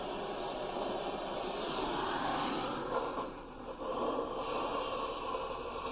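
An oxy-fuel torch cutting steel pipe in a welding class, a steady hissing roar of gas and flame that dips briefly in the middle and then resumes.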